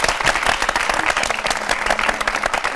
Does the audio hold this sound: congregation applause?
yes